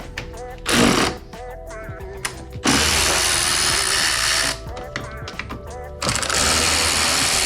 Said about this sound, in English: So here is a T20. Let's get the ratchet.